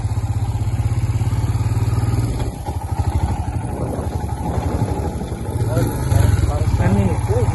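Close motorcycle engine chugs and revs unevenly as the bike climbs uphill, with engine load shifting, while a person talks over it.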